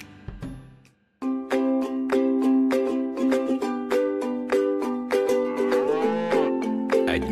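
Cartoon cows moo in an animated advertisement about a penguin-run joy factory where penguins herd cows for milk, a series of close, loud, drawn-out lowing calls after a brief quiet start, set against a bright musical backing.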